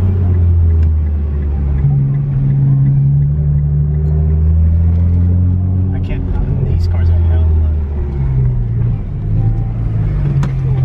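A Nissan GT-R with its exhaust valves opened idles and revs with a deep, loud rumbling drone, pitch rising and falling in steady swells up close, while people talk over it.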